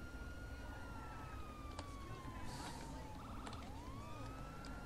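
A police car siren in GTA V with the LSPD:FR mod: a long descending wail sweeps down, then a faster yelp begins, with a brief chirp and faint background game noise beneath.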